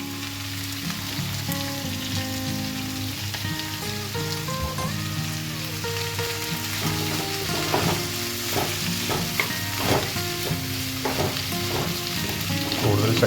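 Chicken curry being stirred in a pot, with a steady simmering sizzle and repeated scraping strokes that grow busier toward the end, fairly close and continuous with no talking.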